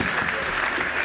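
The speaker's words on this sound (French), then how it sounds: "Est-ce que nous pouvons leur donner un bon d'acclamation pour les enfants?" A crowd at an inauguration event in Kananga, DR Congo, claps for children, a continuous, fairly loud roar of applause with no gaps.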